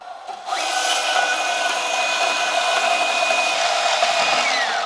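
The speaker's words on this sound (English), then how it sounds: "I think I'm gonna take the bandsaw and cut these" A bandsaw cuts through steel tubing on an off-road truck build, starting up abruptly and then holding a loud, steady whirring hum with a high-pitched ringing tone throughout.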